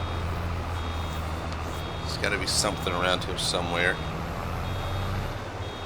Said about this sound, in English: That beeping is getting quite annoying.